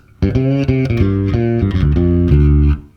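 Electric bass plays a short blues-based break, a quick run of distinct plucked notes with a bend, loud and close, lasting under three seconds and ending abruptly.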